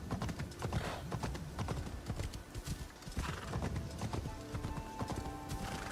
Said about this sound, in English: Yeah, you see, the horse is here.